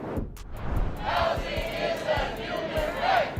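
A crowd of protesters chants in steady, rhythmic bursts, a dense mass of voices heard at moderate distance over a continuous murmur.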